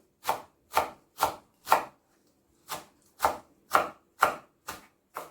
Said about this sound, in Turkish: ben böyle ince ince kıymaya çalışıyorum